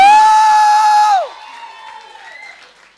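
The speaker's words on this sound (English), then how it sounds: "you clap and you make some noise" A crowd at a scholarship Q&A session lets out a loud, sustained whooping cheer with some clapping. It cuts off sharply after about a second, leaving faint scattered crowd noise.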